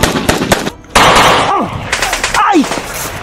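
Machine gun fire in a shootout comes in loud, rapid bursts, stopping briefly and then starting again, with shouting voices and sharp whistling tones mixed in.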